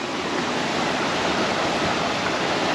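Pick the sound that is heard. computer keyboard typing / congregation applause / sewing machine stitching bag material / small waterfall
small waterfall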